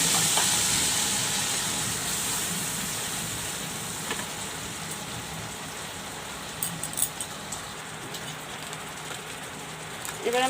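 Mustard, green chili and tomato paste sizzle in hot oil for a Bengali fish curry, a steady close hiss and crackle running throughout, with a few louder pops near the end.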